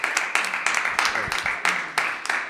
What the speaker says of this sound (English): But first, clap.